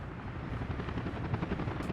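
Helicopter flying in the video game Workers and Resources, a steady low rotor thump and engine drone, fairly faint and continuous with no talk.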